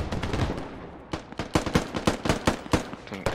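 Rapid gunfire rings out in the military shooter video game Squad, a loud, close run of sharp automatic shots with uneven spacing that gets denser after a short pause, with no voices over it.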